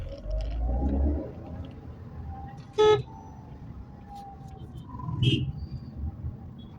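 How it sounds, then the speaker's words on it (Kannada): Bengaluru road traffic: a steady low rumble of passing vehicles, broken by two short, sharp car-horn toots a couple of seconds apart, the first a bright clear blast and the second slightly softer. "ಸ್ವಲ್ಪ ಟ್ರಾಫಿಕ್ ಇದೆ ಈ ಕಡೆ."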